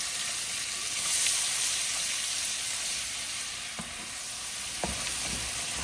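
Half a large onion sautéing in canola oil and butter in a pot for stuffed potato patties, giving a steady close sizzle and hiss with a few soft stirring knocks and no talk.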